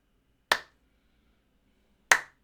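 Two isolated, crisp golf claps about a second and a half apart, quiet and dry against near silence.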